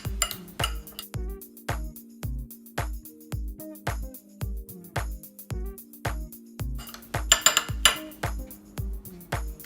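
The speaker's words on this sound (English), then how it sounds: "you're just gonna get a spoon and stir that up." Spoon stirring a mixture in a bowl for breakfast tacos, producing steady rhythmic clinks and scrapes of metal against the dish, about two strokes per second, close and clear with no talking.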